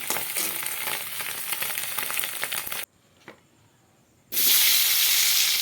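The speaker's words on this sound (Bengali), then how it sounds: "এবার এর মধ্যে আমি কেটে রাখা ডিমগুলো ভেজে নিচ্ছি।" Eggs frying in a pan alongside already fried potatoes give a steady, fairly quiet sizzle and crackle that drops out briefly, then returns louder and denser.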